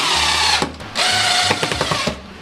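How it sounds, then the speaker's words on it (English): A power screwdriver drives screws while building an aircrete/concrete patio, with several loud whirring bursts of motor spin separated by short pauses, the last stretch broken into quick pulsing clicks as the screw seats. "This is why you have a screwdriver right here"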